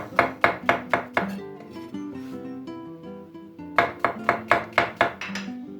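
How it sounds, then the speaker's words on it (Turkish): A knife chops mushrooms rapidly on a cutting board in quick, even bursts, pausing briefly in the middle with soft background music before resuming. "Şimdi şunları da şöyle güzel güzel doğrayalım."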